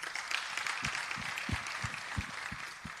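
Audience applause for a Deputy Minister at a studio unveiling in Pretoria: a steady wash of many hands clapping, moderately loud and continuous for the whole stretch, with a few low thumps underneath.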